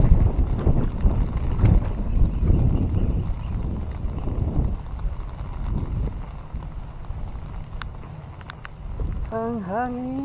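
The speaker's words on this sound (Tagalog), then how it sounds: "At malakas na rin ang hangin." Strong wind buffets the microphone at Bonuan-Tondaligan Beach in Dagupan, a loud rushing roar near the start easing to a steadier blow, with water sloshing and a brief chirp-like squeak at the end.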